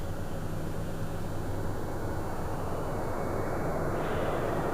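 Steady broadband roar of a jet airliner arriving at LAX on its approach from Detroit, a continuous even rumble that holds at moderate distance and brightens slightly toward the end as the plane draws nearer.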